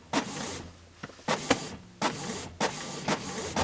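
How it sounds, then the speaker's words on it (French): An inkjet printer runs off paper model pages at home, its carriage whirring and clacking in repeated bursts roughly every half second to second, close and fairly loud, with no voices. "vous avez 75 pages à imprimer chez vous avec votre imprimante à jet d'encre"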